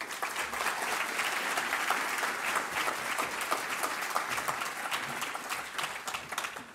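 An audience at the MxD Quantum Technology Summit breaks into steady, full applause as Illinois Governor JB Pritzker comes to the stage, many hands clapping continuously at an even level throughout.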